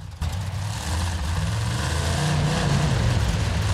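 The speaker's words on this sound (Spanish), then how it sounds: "Giramos así, hacemos unos trompos." A monster truck engine in the Monster Truck Championship video game revs and roars while spinning donuts, a loud, close, sustained growl whose pitch climbs gradually after a short dip at the start.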